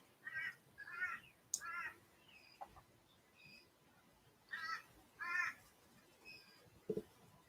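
Birds call outdoors on a clear day after rain: a handful of harsh, caw-like cries in irregular bursts, moderately near, over a quiet background, with a single faint low sound near the end.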